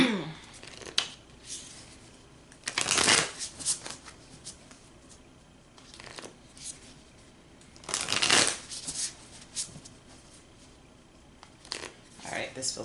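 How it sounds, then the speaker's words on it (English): Deck of playing cards shuffled by hand, several sharp riffling bursts at intervals with quieter handling and rustling between them, close-up. "Feeling the need to continue to shuffle, so that's what I'm going to do until it tells me to stop."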